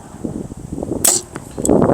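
A single sharp arrow release from a bow fitted with a Trophy Ridge React sight, with a quick whoosh in the middle, set against steady outdoor wind noise and low rustling.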